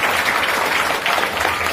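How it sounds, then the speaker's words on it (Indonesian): Audience applause at a religious talk on debt and finance, a brief burst of dense, steady clapping from a crowd, fairly loud and close. "Tepuk tangan buat bebek."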